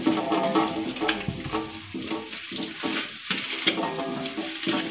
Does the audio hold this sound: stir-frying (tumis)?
yes